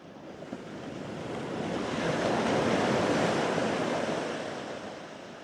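Ocean surf rolls in a steady, close wash of breaking waves that swells gently in the middle and eases off again, with no voices.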